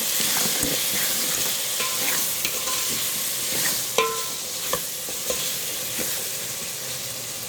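Drumstick dal ingredients, vegetable pieces with salt and chilli powder, stirred in a frying pan, a steady sizzle with repeated scraping strokes and a few sharper clinks of the spoon against the pan, close and alone.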